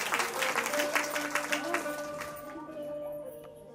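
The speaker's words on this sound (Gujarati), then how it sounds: "આપણે જોરદાર તાળીઓથી એમને વધાવશું." An audience at a Ram katha, a religious storytelling gathering, breaks into brisk, close applause that thins out and fades after a couple of seconds.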